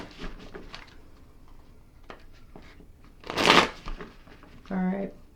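A tarot card deck is shuffled in two quick riffling bursts, each a brief, close, crisp flutter of cards. Someone talks quietly before the shuffles.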